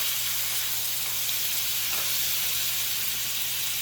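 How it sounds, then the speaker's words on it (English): Catfish fillets fry in about a tablespoon of butter in a pan, giving a steady, close, loud sizzle and hiss that carries on without a break. "We just got about a tablespoon of butter down in here. And we're gonna ease these over in here."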